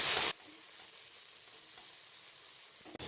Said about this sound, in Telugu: పచ్చివాసన పోయేదాకా దీన్ని మంచిగా ఫ్రై చేసుకోవాలి.